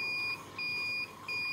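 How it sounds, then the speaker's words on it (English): A Unico 2800 UV/VIS spectrophotometer gives three clear electronic beeps at the end of a scan, evenly spaced and close by, with a quiet lab hum underneath. "you will hear beep sound 3 times"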